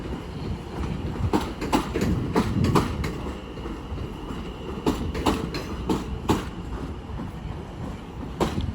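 A London Overground train pulls out of Watford Junction on the West Coast Main Line, wheels clicking steadily over rail joints in repeated rhythmic knocks under a continuous rolling rumble, close by and alone.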